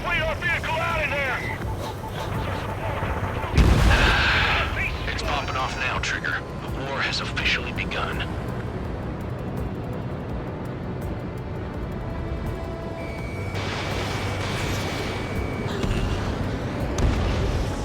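Anti-aircraft fire and explosions from the Ace Combat 7 video game, with a loud burst around the middle over continuous engine drone, while voices talk through most of the clip.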